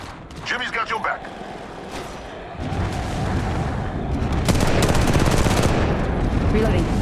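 Gunfire in Apex Legends Mobile: a few quick bursts at first, then sustained heavy automatic fire and impacts building over several seconds, loud and close, with game chatter mixed in.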